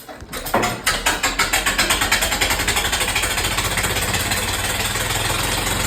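A 3-cylinder stationary engine starts up and settles into a steady, loud, rhythmic chugging run, close by and running alone without voices.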